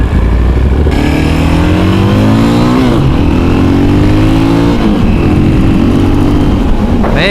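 A KTM 625 SMC supermoto motorcycle accelerates hard and loud, its single-cylinder engine climbing through repeated upshifts in a steady rising-and-dropping pattern, close to the listener with no talk.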